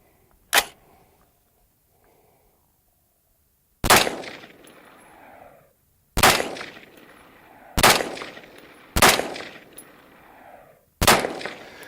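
Six sharp rifle shots from a Cox Arms EMR-1 at a range, spaced a couple of seconds apart after a quiet stretch, each loud crack followed by a short rolling echo.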